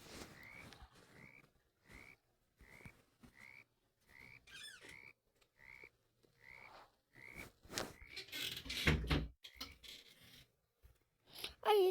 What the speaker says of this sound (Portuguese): Olha os sapos ali